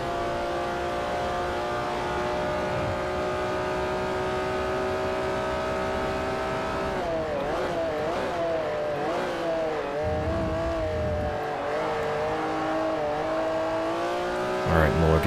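A Ferrari supercar engine in the racing video game Forza Motorsport 4 drones at high revs, steady at first, then dips and climbs through gear changes with other cars mixed in, while a voice talks over part of it.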